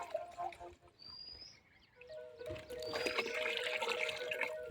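Water streams steadily into a cooking pot for mutton pulao, a rushing, gurgling pour that grows louder midway, with a faint high whistle-like tone above it.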